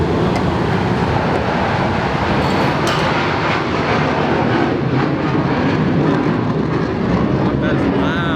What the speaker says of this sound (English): Welcome to Fort Walton Beach, where planes fly over your shop all day long.